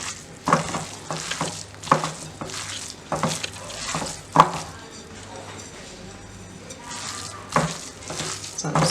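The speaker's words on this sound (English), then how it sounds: "Then I mix this together, of course with your clean hands." Wet, squelching hand-mixing of raw meatball mixture in a bowl, steady rhythmic squishes with a few sharper slaps, close and moderately loud with no talking.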